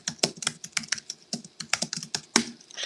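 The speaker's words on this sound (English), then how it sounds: "I can hear you typing" Someone types on a computer keyboard, giving rapid, irregular keystroke clicks close to the mic with no speech.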